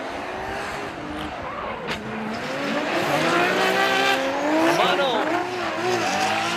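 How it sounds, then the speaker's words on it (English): Formula Drift Japan cars chasing in tandem, loud engines revving with rising and falling pitch sweeps and continuous tire squeal, steady and close throughout the run. "Car number 66 in the lead, and Takahashi's going to be giving chase"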